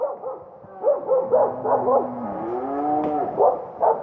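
Herding dogs working cattle in deep timber bark and yip in short bursts, near and fairly loud, with harmonic whining tones between barks.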